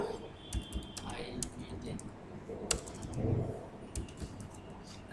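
Keys tapping on a computer keyboard while entering a DHCP pool command in router configuration, irregular clicks scattered over steady background noise and talk.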